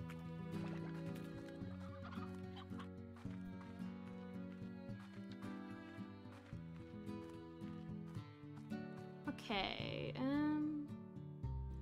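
Chickens cluck and squawk in the video game Slime Rancher, small bird calls scattered over steady layered game music, with a brief louder squawking burst near the end.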